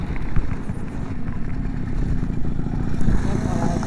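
A Motobecane AV 88 moped engine buzzing steadily at full throttle while riding, loud and close with wind rumble, and a rider talking over it.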